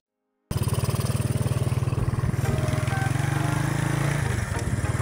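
A motorcycle engine starts up close by and runs in a steady, throbbing putter for several seconds, loud and unbroken, with faint background noise behind it.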